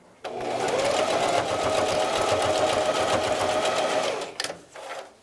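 A sewing machine stitches a quarter inch from the edge of a layered fabric face mask, a fast, continuous mechanical whir for about four seconds that stops with a couple of short bursts. It is close and clear, with no talk.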